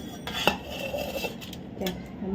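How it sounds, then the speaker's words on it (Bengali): A knife cuts carrots, giving a few sharp, separate chops and taps on a board, mixed with light kitchen clatter. The sounds are close and sparse, with no talking. "গাজর কাটছি"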